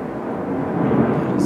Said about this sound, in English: that plane sounded close